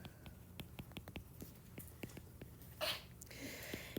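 A single sharp sneeze bursts out mid-lecture in a classroom during a root locus control-design lesson, loud against quieter scattered room sounds and light taps.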